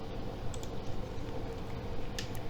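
Quick, irregular keystrokes on a computer keyboard, soft and close, tapping steadily for a couple of seconds in a quiet room.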